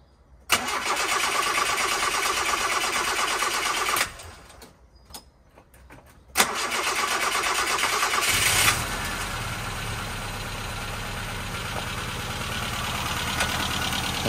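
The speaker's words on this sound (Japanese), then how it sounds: "じゃあエンジンかけます。" A long-neglected Nissan S-Cargo's engine cranks and catches after a fuel filter replacement, running loudly, then cuts out briefly before restarting and settling into a steady idle.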